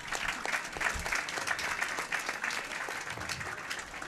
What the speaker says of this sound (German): Applaus für Frank Elsner.